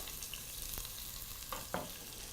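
Onions fry for mutton biryani, a steady soft sizzle with a few sharp crackles and stirring clinks near the end, heard alone without speech.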